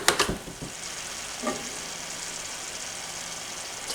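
A pot of candy syrup boiling at about 212 degrees, giving a soft, steady bubbling hiss with faint pops and a few brief clinks near the start.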